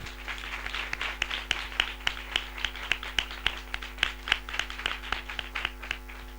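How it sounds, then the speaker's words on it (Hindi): A congregation applauds to welcome listeners at a spiritual assembly, a rhythmic, evenly spaced burst of clapping that sounds fairly close against a low steady hum, with no talk. "हम जोरदार तालियों से उनका स्वागत करें।"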